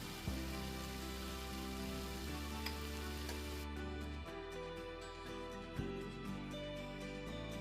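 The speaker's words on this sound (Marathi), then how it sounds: "आता झाकण उघडून मीठ घालायचं आहे आणि छान मिक्स करून घ्यायचं." Potato slices for a crispy Marathi-style stir fry sizzle steadily in a frying pan as they are stirred and mixed with salt, with a few sharper scrapes and knocks over the constant frying hiss, close and alone.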